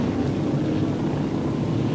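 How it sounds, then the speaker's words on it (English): Speedcar engine roaring at Speedway Park, Adelaide, in 1985, a loud, steady low drone that holds constant and never fades away. "If you can get your ear on that engine, Grant Coombe at 55."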